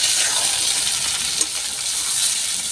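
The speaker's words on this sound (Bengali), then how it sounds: "আমি এবার বেগুনগুলো এর মধ্যে দিয়ে একটু নাড়াচাড়া করে নামিয়ে নিচ্ছি" Eggplant slices are being stirred into frying onions in a hot pan, making a steady close sizzle with a faint scrape of stirring partway through.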